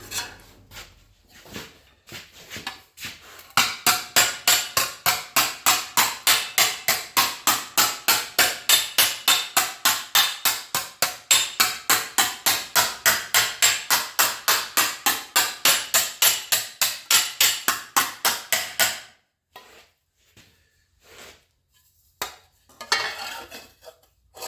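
Rapid, steady hammer blows ring out on a metal piece as its edge is rolled, a long even run of sharp metallic strikes, then a few scattered taps after a pause.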